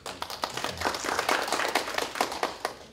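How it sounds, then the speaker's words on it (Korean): A modest audience at an ecology conference claps in a loose, uneven patter of distinct hand claps, fairly quiet and sparse rather than a full roar, with no talk over it. "박수 한번."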